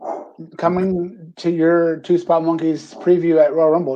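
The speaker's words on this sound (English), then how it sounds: "I apologize for my dog barking in the background" A household dog barks and yips in short bursts in the background while someone talks over it during a live wrestling chat show.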